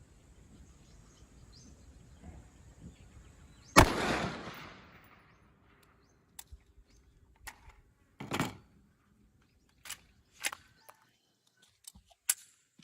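A single gunshot from a Militech Level 3 Plus GT green tip round fired at a ballistic plate, one sharp loud blast with a short decaying tail, followed by scattered faint clicks and knocks in otherwise quiet outdoor surroundings.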